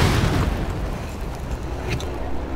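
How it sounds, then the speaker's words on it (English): Frag grenade explosion in Rainbow Six Siege: a loud, close, broadband boom at the onset that rumbles and decays over a couple of seconds, with a faint brighter crackle of debris near the end, no talking. "Why was there such a delay on the grenade? I thought they'd gone off."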